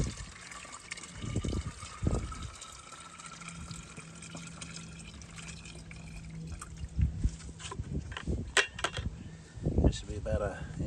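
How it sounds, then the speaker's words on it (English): Half a gallon of hot water is poured into a container for mixing a wood-cleaning solution, a fairly faint liquid splash and trickle running through the clip with some knocks and handling noises. "So I got hot water. Going to put about a half a gallon in here."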